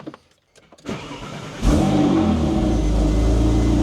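A rebuilt Porsche 997 Turbo race car cranks briefly with a few clicks, then fires up with a loud burst and settles into a deep, steady, close rumbling idle.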